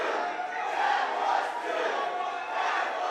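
A wrestling crowd at a WCWC tag team match loudly shouts and protests after a near fall, a dense, sustained roar of voices that swells and dips throughout.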